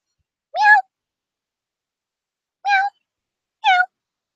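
Three cat meows in a video game, the first near 0.5 s and two more later, clear and separated by silence.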